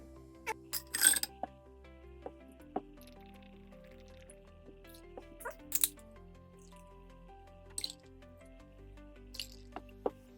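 A cocktail of tincture, cola, orange zest and ice is mixed in a glass: sporadic ice clinks and wet squishing pours, sparse and close, over faint tonal background music.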